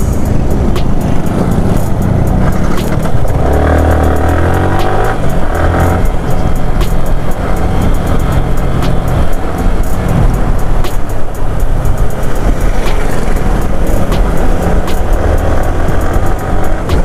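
A Yamaha R15 V3 motorcycle racing an Apache 180 along a street, with continuous loud engine and road noise throughout and a steady drone that swells in places as the bikes push on.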